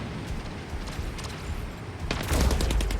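Mech gunfire in the robot combat game Mech Arena: a dense, continuous rattle of heavy shots that swells louder and brighter toward the end, with no talking.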